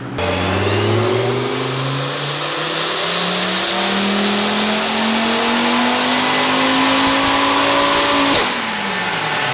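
A modified R53 Mini Cooper engine revs steadily upward on a dyno, its loud, continuous rising pitch climbing for about eight seconds before abruptly cutting back near the end.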